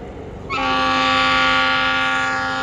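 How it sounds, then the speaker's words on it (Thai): Locomotive 4113 hauling rapid train no. 170 on a Thai southern line sounds a long, loud, sustained horn blast that begins abruptly and holds steady close by. "รถเร็วที่170นะครับ วันนี้ทำขบวนโดยอันต้อม 4113 นะครับ"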